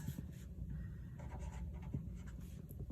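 An equation is written by hand in a chemistry lesson, producing close, continuous scratchy pen-on-surface strokes in quick short bursts with no talk.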